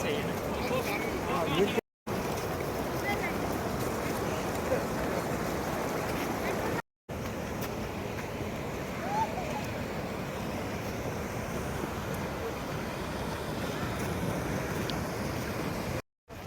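Rushing river below a viewpoint at Doodh Pathri in snowy Kashmir, a steady broad wash of flowing water heard from a distance, continuous with brief dropouts and occasional faint voices.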